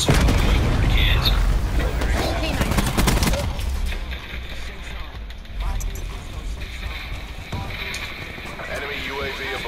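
Hellstorm missile strikes in Call of Duty Black Ops 4 hit as loud, booming explosions and bursts of gunfire at the start, fading into rumbling after the first few seconds, with game voices faintly underneath.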